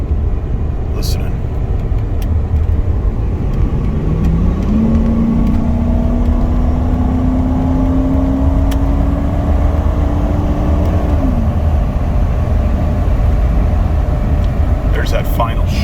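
A 1996 Ford F150 4x4 pickup with an automatic transmission kicks down and accelerates, its engine note climbing steadily in pitch for several seconds before a shift drops it back. The sound is heard from inside the cab, loud and continuous over road rumble, with no talk.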